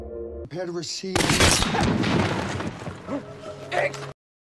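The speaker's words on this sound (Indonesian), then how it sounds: "tiba-tiba saja 2 tembakan dilepaskan" A loud burst of gunfire with sharp cracks and rumbling booms amid a chaotic, dense mix of noise, cutting off abruptly.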